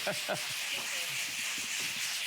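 Drywall patch sanded by hand with rasping back-and-forth strokes, steady and close, with a brief voice at the start.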